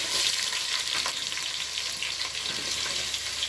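Onions for a chicken dish fry in a pan with a constant close sizzle, overlaid by soft scraping strokes as they are stirred, no voices.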